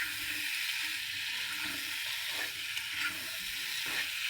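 Meat cooking with green chillies sizzles steadily in oil, a continuous close frying hiss with occasional soft crackles and no voices.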